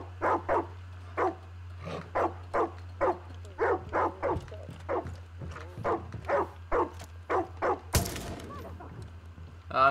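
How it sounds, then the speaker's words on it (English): A dog in the video game Far Cry 5 barks repeatedly in steady, evenly spaced bursts over a low constant hum, loud and close, ending in a sharp crash. "Stop barking, seriously."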